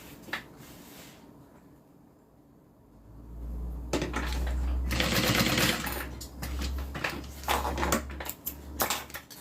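A sewing machine stitches a zip-around wallet, starting after a few quiet seconds with a steady low motor hum and rapid, loud needle chatter in uneven bursts that continue to the end, close by with no talk.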